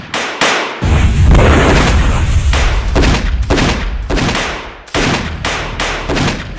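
Loud bursts of gunfire crack in rapid, overlapping volleys, some single shots and some sustained fusillades, close and alone with no talking.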